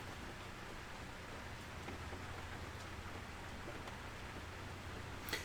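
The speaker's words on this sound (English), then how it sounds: "I hope that rain's not too loud." Steady rain falls outside, a soft constant hiss of drops spread evenly with no breaks, fairly faint and low in level, alone without talk.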